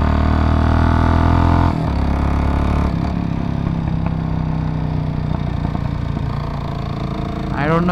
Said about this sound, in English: The engine has a little bit of a mechanical kind of tone to it.